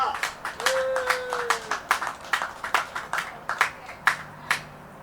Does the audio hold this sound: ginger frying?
no